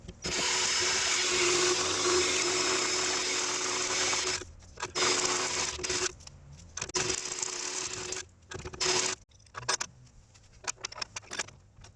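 A step drill bit bores a hole through steel for a rear sway bar end link mount on a first-generation Chevrolet Colorado, loud and steady for about four seconds before it breaks into short whining bursts with brief pauses between them.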